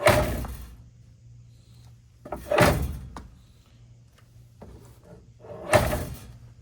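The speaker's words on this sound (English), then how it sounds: "So the rattle you hear when I do that is my loose, just covered license plate cover right there." As a Boost Auto retractable bumper step moves on a 2020+ Chevrolet Silverado HD, a loose license plate cover rattles and thunks in three separate close bursts, with quiet gaps between them.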